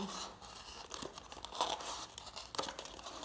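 A locked craft-knife blade gouges into and cuts through styrofoam, making close, quiet squeaky crunching and tearing scrapes in short irregular bursts, with no talking.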